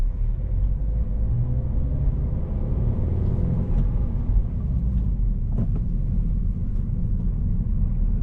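A 2024 Subaru BRZ with a manual transmission is driven on the road, its steady low engine and road rumble filling the cabin continuously and fairly loudly, with no talking.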